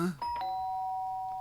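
A doorbell chimes in the video game Danganronpa, a clear electronic ding-dong with a sustained ringing tone that slowly fades, heard close and alone after a brief bit of game sound at the start.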